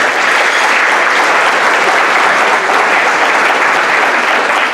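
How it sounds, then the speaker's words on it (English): An audience at a university service citation awards ceremony gives a big round of applause for chapter leaders and volunteers, a dense, loud, sustained roar of many hands clapping with no break. "please give them a big round of applause one more time"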